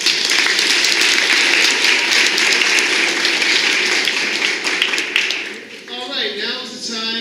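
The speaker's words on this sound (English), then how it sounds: "a round of applause for everybody" A crowd at a community meeting in Seattle applauds the speakers in a sustained, fairly loud patter that fades after about five seconds as a voice begins talking.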